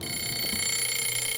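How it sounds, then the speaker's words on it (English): An egg timer rings in the horror video game Monstrum, a steady metallic buzzing ring that holds unbroken at moderate loudness throughout, with no talk over it. "Drop the egg timer down there. Maybe wait for it to start making noise"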